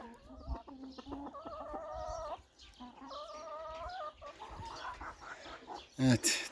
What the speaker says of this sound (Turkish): Ve tavuklarımıza merhaba diyelim.